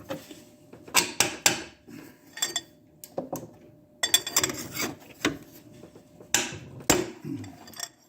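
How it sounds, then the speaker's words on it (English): A socket wrench skips and clicks on an oxygen sensor of a 2009 Dodge Caliber, producing scattered sharp metallic clinks and ratchety taps at irregular intervals, close by with no talking. "the socket's just skipping"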